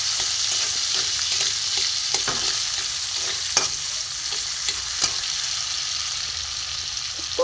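Chopped garlic, onion and tomato fry and get stirred in a pan for rohu fish curry, a loud continuous sizzle punctuated by repeated spatula scrapes and taps, close up with no talking.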